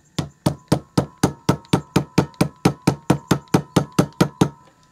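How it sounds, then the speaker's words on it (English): A polymer-faced mallet gently taps a trigger part into place on a Remington 580/581/582 rifle receiver: about seventeen crisp, evenly spaced taps in a fast steady rhythm, close and fairly loud, with no talking. "You want to use something soft, like this mallet that has a polymer end or a lead head just like this"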